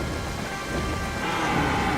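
Steady in-game rain from The Legend of Zelda: Twilight Princess, a dense broadband hiss of falling water that swells slightly louder toward the end, with thunder rumbling low underneath; no voices.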